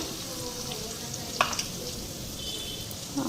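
Chili powder and spices with a splash of water hitting a hot frying pan, giving a steady close sizzle and hiss with a few brief clinks of stirring, no voices.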